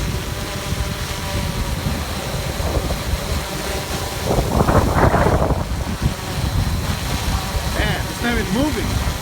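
Strong wind buffets a GoPro Karma drone in flight, a steady loud roar and rumble with a gust swelling midway, while a voice briefly speaks underneath.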